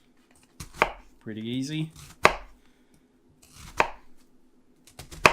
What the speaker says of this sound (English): You make some parallel small slices.